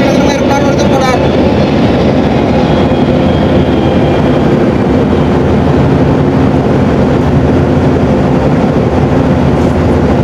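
A large airplane passes overhead near a port terminal at Tanjung Langsat, Malaysia, making a loud, continuous low roar that fills the whole stretch, with faint talk in the background.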